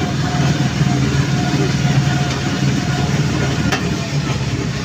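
A gentor, a small engine-driven hauling vehicle on an Indonesian oil palm plantation, runs at full speed while loaded with about five quintals. It gives a steady, loud, rumbling engine drone with a constant low hum and no breaks.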